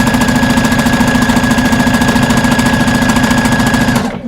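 A sewing machine runs steadily stitching a dress seam, loud and close with a fast regular mechanical rhythm and a steady hum, stopping abruptly near the end.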